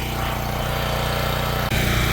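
The engine of a Lincoln Bulldog 5500 welding machine idles close by, giving a steady, even, buzzy putter. There is one brief dip in the sound near the end, and no one speaks.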